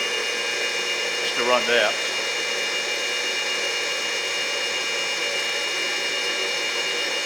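The spindle of a K.O. Lee S818CNC three-axis servo-driven CNC surface grinder runs with a steady, even hum throughout, and someone speaks briefly over it near the start.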